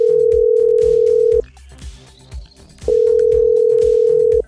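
A telephone line gives a loud, steady electronic tone in two long bursts with a short gap between them, close and alone over faint background music.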